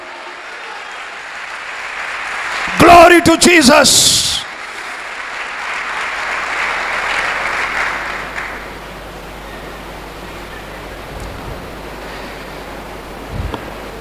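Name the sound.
congregation applause in church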